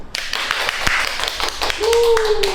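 A small group claps inside a restaurant, quick close claps and taps mixed with lively voices talking, with a high whistle-like tone near the end.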